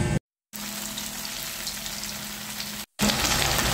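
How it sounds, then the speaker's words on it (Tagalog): Tofu frying in hot oil for a Filipino home lunch, giving a dense, continuous crackling sizzle close up. It cuts out briefly twice, and there is no speech. "Unahin natin, iprito ang tokwa."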